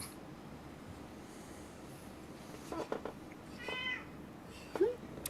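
A cat meows a few times, soft and somewhat distant, with one sharper, closer meow near the end against a quiet background.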